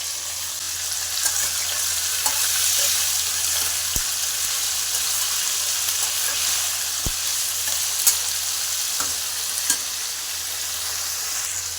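Mixed vegetables with green chili and tomato fry in a pan for a porridge dish, giving a continuous even sizzle with scattered light clicks and taps of a spoon against the pan.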